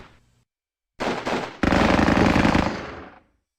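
Two close, loud bursts of automatic weapon fire from the war game Squad Battles: Eagles Strike: a short rattle followed by a longer sustained volley that stops abruptly.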